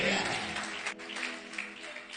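A church congregation applauds in a brief burst of clapping mixed with voices and cheering, fairly loud and continuous, with some speech layered over it.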